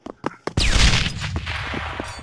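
Gunfire in the VR shooter Pavlov VR: a few sharp separate shots, then a loud sustained volley of rapid fire with echoing cracks, heard close and with no talk over it.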